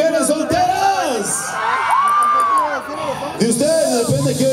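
A crowd of women at a 2010 concert in Nigromante screams and cheers with rising whoops and yells. The cheering is loud and sustained, swelling and dipping over several seconds.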